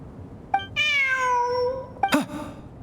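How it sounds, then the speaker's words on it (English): In the video game Genshin Impact a cat gives one long, drawn-out meow at close range, framed by a few short clicks or taps before and after. "Look, a cat."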